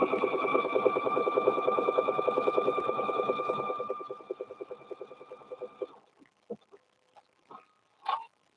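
A sewing machine stitching a vinyl quilted handbag runs in a fast, steady buzzing rhythm for about four seconds, then slows into a handful of separate stitches and soft clicks before stopping.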